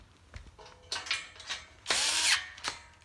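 A wrench tightens a bolt on a Walkabout workbench brace in several short, close bursts of ratcheting and grinding, with brief pauses between them.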